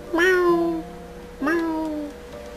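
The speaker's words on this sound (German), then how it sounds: "Oh, die Katze." Two drawn-out Minecraft cat meows, each rising then sliding down, about a second apart, clear and close with no one speaking.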